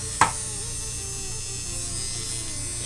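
A Kemei 696 5-in-1 hair clipper with its nose hair trimmer attachment runs with a steady, close electric buzz, after a brief click at the start and with no talking.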